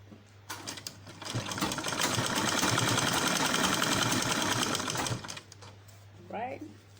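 A sewing machine stitches Ankara fabric in a steady, close, whirring run lasting several seconds, starting and stopping abruptly, with a voice before and after.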